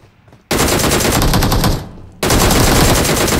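Rapid automatic gunfire from AK and DP weapons in a battle royale video game, loud and dense bursts lasting over a second, a brief lull, then another sustained loud burst.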